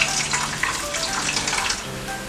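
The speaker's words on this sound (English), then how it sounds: "Pass it through the sieve, the cheesecloth." Homemade coconut milk pours through a sieve lined with cheesecloth, a steady close splashing trickle of liquid running for a couple of seconds.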